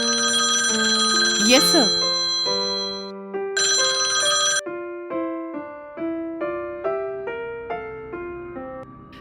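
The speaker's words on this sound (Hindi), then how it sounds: "स्टेशन में सुबह सुबह फोन की घंटी बजने लगी" A telephone rings at a police station in the early morning, its melodic electronic ringtone sounding close and repeating in a steady pattern, with someone briefly speaking over it.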